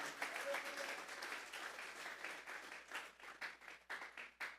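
A church congregation claps and applauds, starting as a dense continuous wash and breaking toward the end into separate, rhythmic bursts of clapping.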